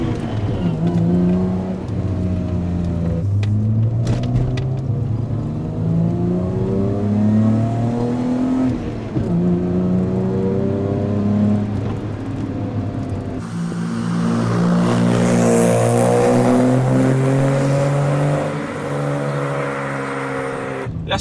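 A 1987 BMW 320iS E30 engine revs up repeatedly toward 7000 rpm, its rising harmonic whine sweeping up and falling back in several loud, close pulls, with a harsher, more intense burst near the end.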